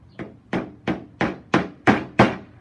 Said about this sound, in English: Or you can just kind of hammer another one in